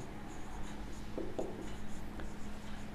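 Faint scratching and tapping of writing on a board during a math lesson on mathematical induction, a few short strokes over a steady background hum.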